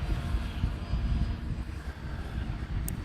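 E-flite Commander mPd 1.4m electric RC plane coming in to land at about half throttle with flaps down, a low, steady motor drone mixed with gusty wind noise on the microphone, distant and fairly faint.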